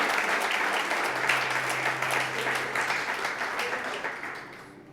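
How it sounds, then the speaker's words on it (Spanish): A church congregation breaks into dense, sustained applause offered to God, full and steady before slowly thinning out, with a low voice briefly murmuring underneath. "Si le va a dar una ofrenda de aplauso al Señor"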